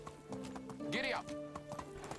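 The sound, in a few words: horse clip-clopping in Medieval Dynasty video game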